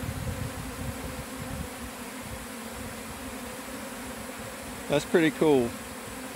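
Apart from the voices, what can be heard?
honey bee swarm buzzing while entering a hive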